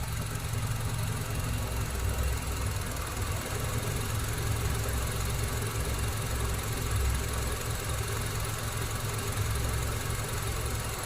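A Honda CR-V 2.0 i-VTEC, a 2008 third-generation 4WD, idles steadily and evenly with a smooth, close, continuous hum and no speech over it.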